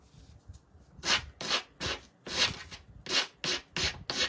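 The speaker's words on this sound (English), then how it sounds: "I gotta grab another piece of sandpaper." Sandpaper rubs on a painted piece in about nine quick, rhythmic strokes, close and fairly faint, each a short raspy swipe with small pauses between.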